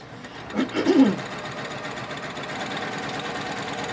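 A home sewing machine stitches rag quilt blocks together in a short, close, whirring run of about half a second, followed by a low, steady background hum.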